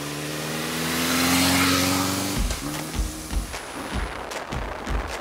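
A motorcycle climbing the steep, twisty road up Mount Samat, its engine holding a steady droning tone, then breaking into uneven bursts and throttle blips as it works the curves, fairly close with no speech.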